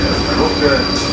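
A Moscow metro train pulls in with a loud, steady rumble and rail roar for about a second, with a thin, high whine running over it.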